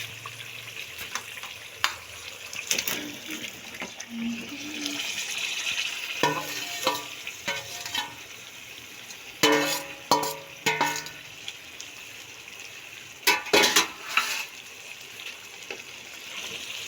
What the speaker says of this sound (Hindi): अब हम इसमें मैरिनेट की हुई गोभी डालते हैं